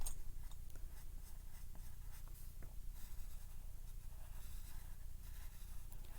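Pen drawing two curved lines on paper, a soft continuous scratching and scraping with short strokes repeating steadily, close and quiet, no talk.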